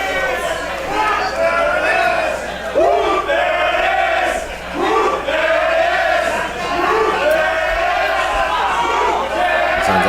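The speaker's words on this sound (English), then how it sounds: "Sounds like we got a lot of old school tag team fans in the crowd there with the "Whoomp, there it is" chant." A wrestling crowd chants in rhythmic waves during a tag team match, loud massed voices rising and falling in repeated phrases with steady crowd roar underneath.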